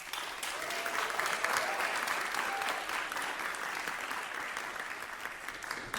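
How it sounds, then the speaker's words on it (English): Audience applause fills a presentation hall as a speaker is thanked, a steady, dense roar of many hands clapping at even loudness for about six seconds with no break. "a round of applause if we could"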